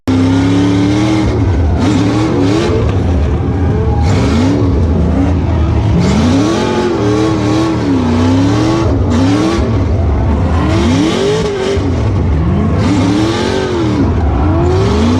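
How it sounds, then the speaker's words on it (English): A drift car burning up its tires, with a loud engine revving up and down in repeated swooping pulls and tire squeal underneath, close and continuous throughout. "we're just gonna get rowdy and burn up the rest of these tires"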